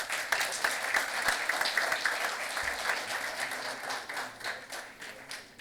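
Steady applause from a convention audience of insolvency professionals, a moderately distant, even patter of many hands clapping together throughout.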